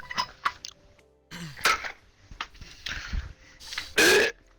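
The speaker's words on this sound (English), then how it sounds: "Oh, that was a weird burp." A person lets out a loud, close burp near the end, preceded by scattered throat and mouth noises and brief clatters in a quiet room.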